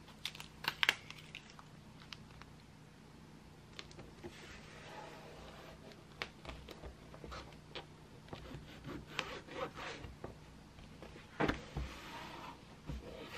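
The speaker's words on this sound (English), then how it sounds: "Ugh, Gorilla tape, so sticky." Sticky Gorilla tape pulled and pressed onto a sketchbook spine: scattered crackles, taps and rubbing scrapes at close range, irregular and fairly quiet throughout.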